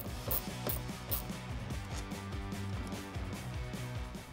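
T15 Torx screws being backed out of a Harley touring speaker lid with a ratcheting driver, a quick, rhythmic clicking ratchet chatter repeating steadily, close and fairly quiet, with no talking.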